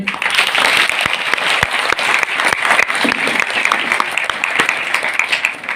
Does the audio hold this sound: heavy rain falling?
no